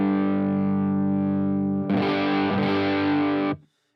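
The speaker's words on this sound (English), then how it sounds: "we can't get the amount of high end that I want to hear out of the anxiety overdrive" A sustained electric guitar chord rings out clean, then heavily distorted strums through an Anxiety overdrive pedal with drive and tone maxed kick in, gritty and loud, before cutting off abruptly.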